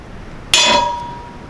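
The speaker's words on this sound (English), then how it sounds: "take a center punch and line it up right on that hole" A single sharp metallic strike of a hammer on a center punch marking a drill hole in metal for a DIY surf fishing cart, close and loud, ringing briefly before decaying.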